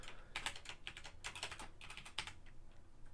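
Fast typing on a computer keyboard while writing C# code: bursts of crisp, close key clicks in quick irregular runs with short pauses, fairly quiet, with no talking.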